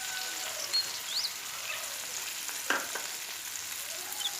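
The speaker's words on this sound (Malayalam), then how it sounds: "ഇനി ഇത് ചേർത്ത് നന്നായി ഇളക്കി കൊടുക്കാം കേട്ടോ" Spice powder goes into tomato curry frying in a pan as it is stirred, giving a soft continuous sizzle with faint scraping stirs throughout.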